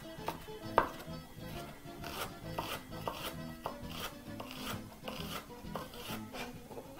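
A knife finely chops a red onion on a cutting board in a home kitchen: a steady series of quick, close taps and scraping strokes, one sharper knock early on, over faint background music.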